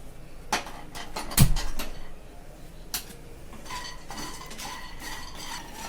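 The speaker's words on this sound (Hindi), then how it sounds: "तो अब फिर थोड़ी देर फ्राई करते हैं।" Makhana (fox nuts) are stirred in a pan, giving scattered clinks and scrapes of a utensil against metal, one sharp louder knock, and faint light sizzling between strokes, no talk.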